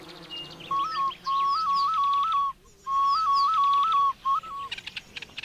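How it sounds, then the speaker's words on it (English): A shrill snail shell whistle blown in two long trilling bursts with a short pause between, over faint bird and insect sounds outdoors. "people can actually call up a honey guide by using a snail shell whistle"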